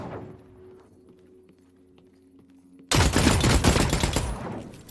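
A sudden loud burst of automatic gunfire in The Cycle: Frontier erupts after a quiet stretch and rattles on close and dense for about two seconds before easing off.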